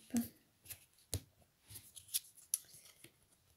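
A deck of tarot cards is cut and handled, producing a series of soft, irregular papery flicks and slaps up close, quiet between the brief snaps.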